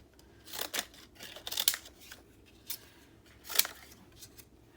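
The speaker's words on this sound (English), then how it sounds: "I thought I'm going to use my decal scissors because it takes less time" Decal scissors snip through paper in a handful of crisp, separate cuts, close and fairly quiet, with short pauses between the sharp bursts and no talking.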